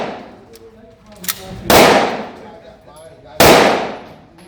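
Two sharp, loud 9mm pistol shots at an outdoor shooting range, spaced nearly two seconds apart, each cracking and ringing off, with quieter voices and small clanks between them.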